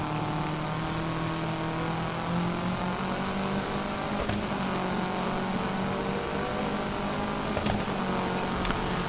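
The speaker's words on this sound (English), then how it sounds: "So this is like kind of arcade style off-road racing" Steady engine drone of an arcade-style off-road racing car in a video game, continuous and fairly loud throughout with a couple of sharp knocks, no voices.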